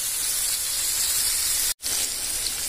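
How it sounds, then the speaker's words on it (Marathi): Green chicken kabab pieces frying in a pan at home, a loud continuous close-up hiss and sizzle of oil, broken once by a brief dropout before resuming just as strongly. "आपण हे पण फ्राय करून घेऊया."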